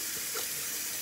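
Tap water runs steadily into a kitchen sink as dishes are washed, a constant bright hiss with faint clinks, heard alone.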